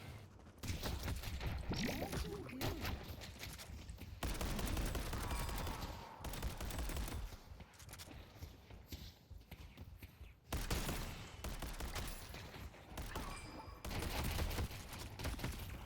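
Goo gun firing in the video game Mo & Krill, rapid bursts of gunfire-like shots repeating throughout, loud and dense, with brief pauses between volleys.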